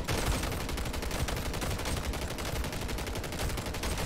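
Rapid, unbroken automatic gunfire from the video game Call of Duty Modern Warfare Zombies, a loud, dense stream of shots with no pauses.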